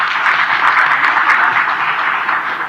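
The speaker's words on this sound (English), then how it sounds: "A round of applause for the panel." Audience applause for a panel at an AI summit, a dense, steady wash of many hands clapping, fairly loud and continuous, with no talking over it.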